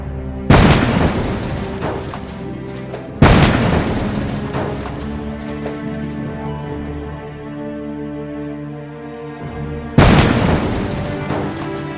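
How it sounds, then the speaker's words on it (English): A truck blown apart at a staged roadblock for a James Bond film, heard as three heavy booming blasts spread over several seconds, each with a long rumbling decay. "then the big explosion with multiple cameras"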